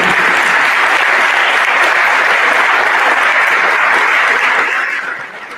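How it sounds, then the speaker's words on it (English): Loud, dense applause from an audience at a police ceremony for new officers and recruits, a steady roar of clapping close by that fades away in the last second. "everybody here should just give the mayor a round of applause"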